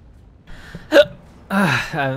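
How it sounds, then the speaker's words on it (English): A single sharp hiccup from a person streaming the game Star Citizen, standing out briefly before speech resumes close to the microphone. "And I have the hiccups now."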